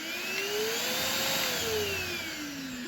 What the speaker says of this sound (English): this is the Keromee vacuum cleaner